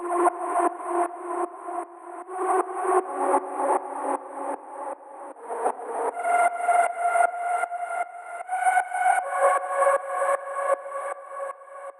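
A synth lead melody pulses in rapid, rhythmic chops from a sidechain Gross Beat effect in FL Studio, each note ducking and swelling in a steady pumping pattern, with bright harmonics and no voices.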